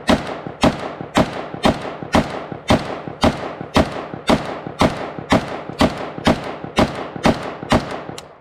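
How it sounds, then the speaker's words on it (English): An FB-Radom Mini Beryl, a Polish rifle-calibre gun with a muzzle device, fired as a pistol at a range: a steady string of about fifteen loud, sharp shots, evenly spaced roughly every half second, close by and with no talk. "Now I'll try the Mini Beryl as a true pistol."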